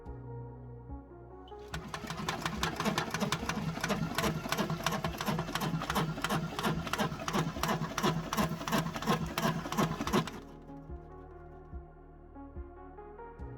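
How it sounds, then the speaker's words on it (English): A laboratory stomacher machine with two metal paddles beating against a food sample in a bag, starting up into a fast, steady mechanical clatter that runs for about eight seconds and then stops abruptly. "The stomacher machine is made of 2 metal paddles that beat against the sample in the bag"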